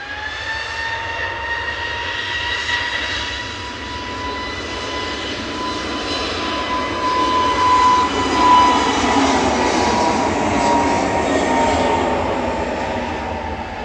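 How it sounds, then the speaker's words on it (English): An EasyJet passenger jet arriving at Manchester Airport gives a steady, loud engine roar with a whining tone, swelling slightly as it nears and passing without voices. "Here's EasyJet to Venice with flight 2121."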